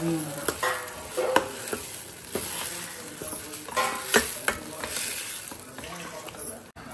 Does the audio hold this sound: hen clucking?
no